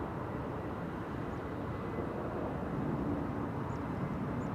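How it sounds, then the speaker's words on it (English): Singapore Airlines Airbus A380 departing from the center runway at Amsterdam Schiphol, a distant, steady low jet roar holding evenly throughout, with no voices. "The A380 having taken off from the center runway."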